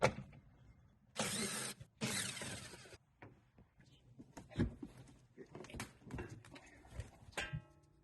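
A 10 mm socket ratchet works the screws on the engine cover of a 2017 Lexus RX350 with the 2GR-FKS V6, giving close, intermittent bursts of rapid clicking between softer mechanical clinks.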